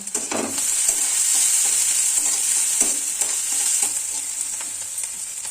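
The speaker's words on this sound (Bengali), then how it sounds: "লবণটা দিয়ে পেঁয়াজটা আর কাঁচা লঙ্কাকে ভালো করে একটু ভাজা ভাজা করে নেব।" Onions and green chillies with salt and turmeric sizzle steadily in a hot pan, a constant bright hiss with occasional scrapes of a spoon stirring.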